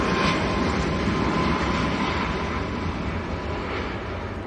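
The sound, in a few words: Ryanair Boeing 737 Max rolling for takeoff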